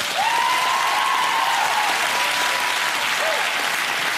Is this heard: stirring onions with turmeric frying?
no